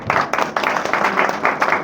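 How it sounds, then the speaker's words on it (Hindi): A burst of crowd applause, many hands clapping steadily for a couple of seconds, fairly loud and close. "जोरदार तालियां"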